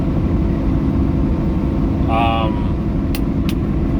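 A truck cruises at 60 miles an hour in 8 low, its engine and road noise a steady, loud low drone, with a brief tonal sound midway and short clicks near the end.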